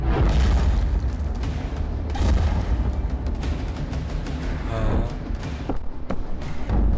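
Gunfire crackles and booms in the distance, muffled thuds rising irregularly out of a dense, rumbling background that never lets up.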